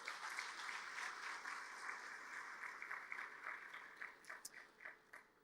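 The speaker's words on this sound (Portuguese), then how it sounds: "E aplauda bem forte ao Senhor" Congregation clapping during a church service, a steady wash of applause at moderate distance that breaks into scattered individual claps toward the end.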